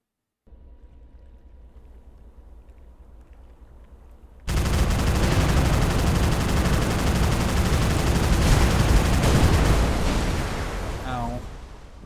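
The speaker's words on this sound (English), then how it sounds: "I was too close to the explosion on that one." Explosions and gunfire in the space game Starmade: after a quiet low hum, a sudden loud blast opens into sustained dense crackling fire and rumbling, close and continuous for several seconds, with a brief pitched chirping near the end.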